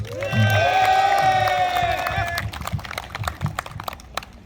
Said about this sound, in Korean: 여러분 정말 뜨거운 박수 한번 보내주시기 바랍니다